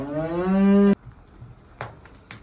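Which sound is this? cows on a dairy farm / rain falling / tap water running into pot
cows on a dairy farm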